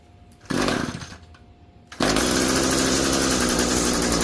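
An Echo SRM-2320T string trimmer fitted with a new carburetor and filter cover, pulled on choke: a brief pull-start sputter, then at two seconds the small two-stroke engine catches and runs with a loud, steady, high buzzing drone close by.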